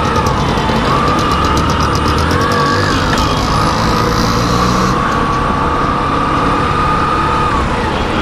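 A Hero Passion Pro Xtec motorcycle engine runs in gear during a test ride, a steady loud drone with a faint rising tone and wind and road noise throughout.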